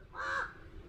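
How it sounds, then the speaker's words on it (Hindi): A single crow gives one short, harsh caw, faint and somewhat distant, followed by quiet background noise. "कौवा यार इतना बोल रहा है"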